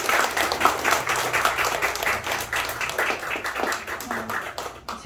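Members of a congregation applaud at a Thursday worship service opening a healing center, ahead of a special song, with full, continuous clapping that fades near the end as a faint tone emerges.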